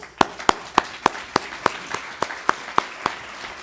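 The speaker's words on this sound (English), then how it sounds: "So I'd like to applaud all of you" At a gala, sharp, evenly spaced claps ring out in a steady beat, about three per second, standing out crisply over a faint murmur of background room noise.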